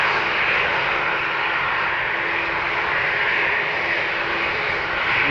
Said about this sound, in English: It seems that the Air France Airbus at the threshold will take off